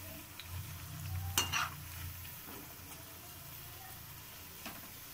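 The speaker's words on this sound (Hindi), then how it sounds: "मैं इन्हें मीडियम फ्लेम पे फ्राई कर रही हूँ।" Pakoras frying in oil over a medium flame, a continuous soft sizzle and bubble with a brief louder stir or turn near the middle, close but fairly quiet, with no voice.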